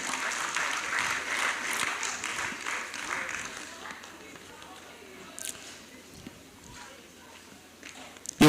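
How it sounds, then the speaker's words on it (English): Conference audience at Veritas University in Abuja applauding the Irish ambassador to Nigeria; moderate clapping for about four seconds, then fading into quiet room noise with a few scattered sounds. "Round of applause for Mr. Peter Ryan"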